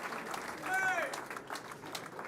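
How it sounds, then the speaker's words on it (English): A small audience claps for an Offensive Rookie of the Year award winner at an honors event, a moderate, brief round of applause swelling and fading with light crowd murmur. "Round of applause again for our Offensive Rookie of the Year."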